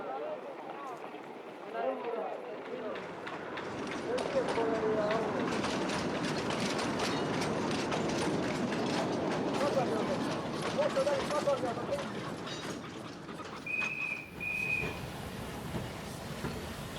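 A narrow gauge locomotive rumbles and clanks at a railway terminus, a broad rolling mechanical noise that swells and holds, with a brief squeal near the end and a narrator speaking over it.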